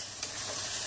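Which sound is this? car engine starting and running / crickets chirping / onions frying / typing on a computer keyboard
onions frying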